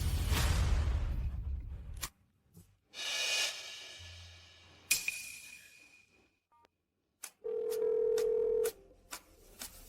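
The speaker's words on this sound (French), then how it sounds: "Appel FaceTime." A FaceTime call rings on a phone: two stretches of steady electronic ringing tone, separated by short gaps and quiet moments with faint breathing-like noise, clear and close.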